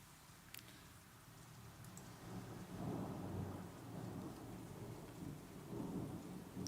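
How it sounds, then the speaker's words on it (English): A thunderstorm rolls through, with low rumbling thunder that swells and lingers under a steady wash of rain and occasional sharp drips. "It's the second thunderstorm happening today."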